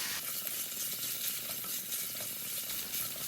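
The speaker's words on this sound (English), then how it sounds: "So in that goes, just so that the bacon gets a little bit of a char and releases all its essential fats to flavor the overall dish." Bacon sizzles in a pan while bacon and egg fried rice is cooked: a steady, dense, close crackle that holds evenly throughout, with no talking.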